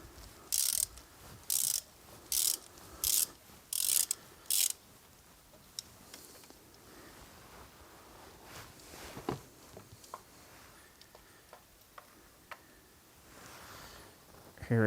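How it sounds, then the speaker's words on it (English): A ratchet undoing an old spark plug on a Jaguar S-Type 3.0 V6, six quick bursts of sharp clicking near the start, followed by faint handling noises and occasional taps. "And now you just undo the old spark plug."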